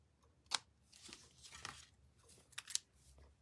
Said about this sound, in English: I'm going to cut that piece off.